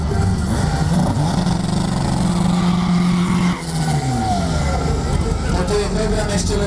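A diesel race car with a 1.9 engine accelerates hard, its engine note rising in pitch through the gears alongside loud tire noise, close and continuous with speech faintly underneath.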